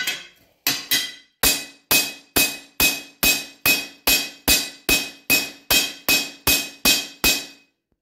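A forged steel hammer strikes metal about fifteen times at a steady, brisk rhythm, each blow loud, sharp and ringing, close up with nothing else heard.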